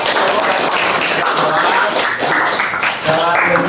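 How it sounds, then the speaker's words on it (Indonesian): A classroom audience claps for a student group after a presentation, a dense, steady patter of many hands filling the room with some voices mixed in. "Tepuk tangan dulu untuk kelompok."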